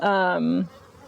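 Honey bees at an open hive on a London farm, a loud close buzzing drone for about half a second that drops away to quiet background.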